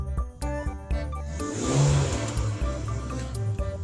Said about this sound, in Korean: 제가 악셀을 풀악셀 한번 밟아볼게요.